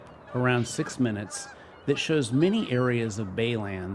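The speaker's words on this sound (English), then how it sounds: "allowing you to hear the birds squawking." Geese honk and squawk repeatedly in loud, nearby calls, while a person talks at the same time.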